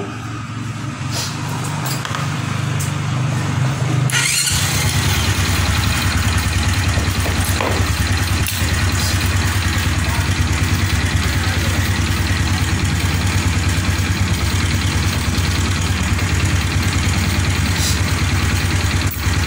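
A fuel-injected Honda motorcycle engine with a battery fault cranks and catches after a few seconds, then settles into a steady, close idle that runs on evenly.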